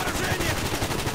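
Rapid AK rifle fire in the shooter game Call of Duty Black Ops, a fast stream of sharp cracks over a dense, noisy game backdrop, fairly quiet in level.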